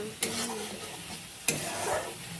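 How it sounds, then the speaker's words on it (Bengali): Spices fry in a pan for pointed gourd curry, giving a soft, close sizzle with two sharp spoon scrapes against the pan amid gentle stirring; no one speaks. "মশলা ভাজা হয়ে গেছে।"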